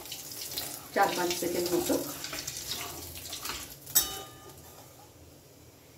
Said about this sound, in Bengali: তেল গরম হয়ে গেছে, তেলের মধ্যে দিয়ে দিচ্ছি 1/2 চামচ মতো কালো জিরে।